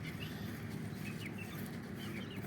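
Farm chickens, one rooster and two hens, cluck and murmur steadily at morning feeding time, a continuous low chatter of fowl sounds close by with no talking.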